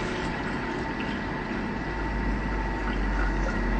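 About 1200 millilitres of water runs into a pot for cooking pasta, a steady close gushing and splashing flow that holds continuously with no talking over it.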